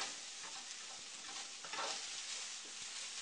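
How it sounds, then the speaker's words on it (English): Wild rice stir-fry ingredients stirred and turned in a hot pan, a steady soft sizzle with scraping and shuffling of grains running throughout, close and fairly even with a brief louder swell midway. "we're just going to stir that around, mix all the ingredients together"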